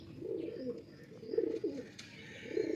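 Tournament pigeons at a loft coo in three low, rolling bursts, close and moderately loud, with a faint higher chirp now and then and no talking.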